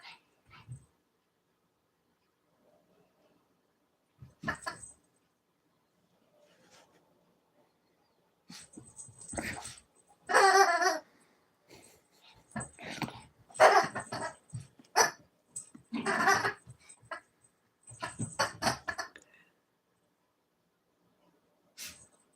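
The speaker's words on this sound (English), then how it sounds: "She makes a lot of noise for a little dog." A small female dog whimpers and gives bursts of sharp barks and yips, irregular and fairly close, with quiet gaps between; faint talk comes through now and then.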